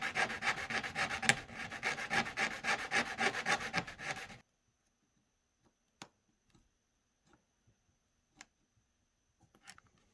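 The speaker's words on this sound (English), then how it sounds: "I'm going to have to do a little bit of sanding down on this rail" Steady rhythmic rasping of sanding on an N scale model railway rail for about four seconds, then near silence with a few small clicks and taps.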